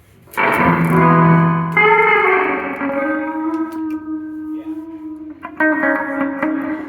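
Electric guitar notes through a multi-effect unit's reverb ring out with a heavy reverb tail, a strummed chord followed by sustained, washing tones that slowly decay and shimmer.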